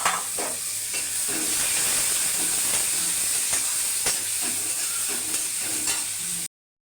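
Onion and whole spices frying in hot oil in a pan: a loud, continuous close-up sizzle and hiss with occasional stirring scrapes, and no one talking.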